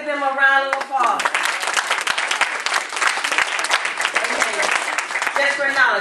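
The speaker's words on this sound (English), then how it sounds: "Let's give them a round of applause." An audience at a gathering bursts into loud, sustained applause that swells quickly and holds steady, with a voice speaking briefly at the start and again as it ends.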